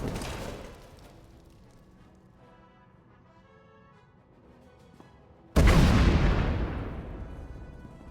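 A heavy explosion erupts in SWTOR, a loud booming blast with a long rumbling decay, following a quieter stretch that opens with a fading rumble.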